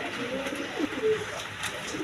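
A pair of big white beauty pigeons coo softly and close by, with a low murmuring call over faint background noise.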